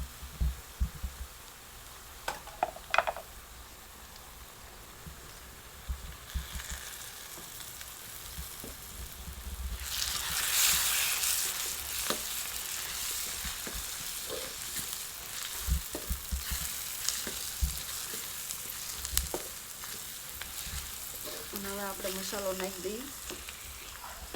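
Tomato dropped into hot oil in a pan for a spiced chickpea and semolina snack, with a quiet fry that swells into a broad sizzle partway through, plus a few scattered clinks.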